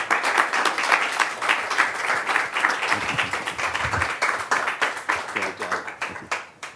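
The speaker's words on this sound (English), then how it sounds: "Let's give him another round of applause." A seminar audience gives a student's research presentation a round of applause, crisp rhythmic clapping that starts lively and thins toward the end, with a voice speaking over it.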